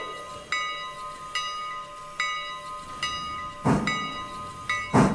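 A loaded train pulls away in the railroad simulation game Railroader, with a sustained steady tone, repeated clanking pulses at regular intervals and two louder bursts of hiss and rumble near the end.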